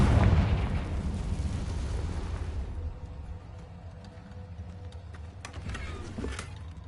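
A Confringo blasting curse goes off in Hogwarts Legacy with a loud, close boom that rolls off into a long, fading rumble, followed by faint scattered crackles, with no voices.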